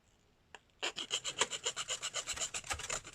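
A car key blade with a transponder chip being cut, heard as a quick faint tap and then a steady run of about fifteen rhythmic rasping strokes, close and fairly loud.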